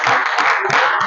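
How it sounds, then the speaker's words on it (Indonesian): Classroom of students clapping for a presenting group, a dense burst of overlapping claps filling a short moment with no talk. "beri tepuk tangan untuk kelompoknya Dinda"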